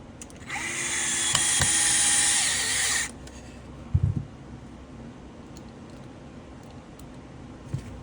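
A power screwdriver whirs steadily for about two and a half seconds, driving screws into a TAPP hybrid KWA MP9 airsoft lower receiver. A couple of soft handling knocks follow in near silence.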